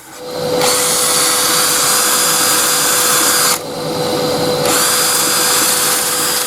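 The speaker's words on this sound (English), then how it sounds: "get the sanding pad in the drill, give it a good sand off" A power drill fitted with a sanding pad whines steadily with a harsh abrasive hiss as it sands wood, briefly dropping in pitch mid-way before resuming.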